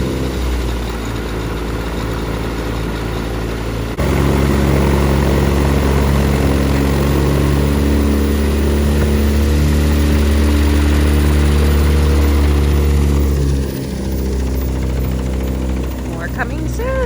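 A Corvair-powered Zenith Cruzer light aircraft with its engine and propeller running, a loud steady droning hum that jumps up in level after a few seconds and holds, then dips briefly near the end.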